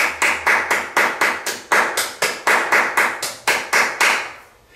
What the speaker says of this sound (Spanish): un cariñoso aplauso en este día de fiesta.